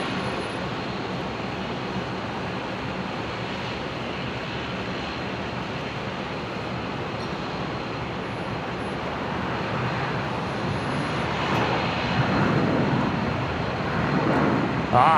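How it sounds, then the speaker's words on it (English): A Qantas Boeing 737 arriving from Sydney touches down at Brisbane Airport, its steady broadband jet roar holding level throughout and swelling slightly louder near the end, with no talk over it. "And there's Qantas 524 just about to touch down"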